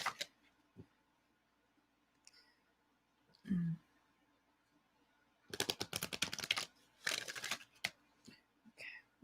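Cards are riffled in two quick rattling bursts close by, after a brief voice and otherwise quiet moments.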